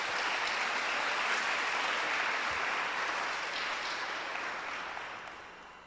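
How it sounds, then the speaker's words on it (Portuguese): Church congregation applauding for Renato, a steady, fairly distant wash of clapping that gradually fades toward the end. "Dá uma salva de palmas para o Renato aí, gente."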